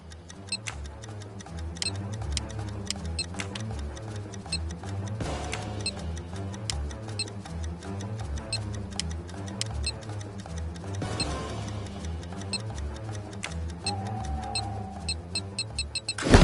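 A bomb ticks steadily and crisply in an Agatha Christie video game, a fast even tick-tock running throughout over a low droning backdrop, with a soft whoosh partway and a brief tonal beep near the end.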